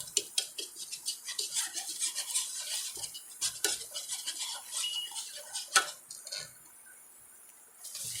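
A utensil scraping and stirring flour into fat in a pan to form a paste for turkey wing gravy, with quick, close clinks and scrapes that pause briefly near the end.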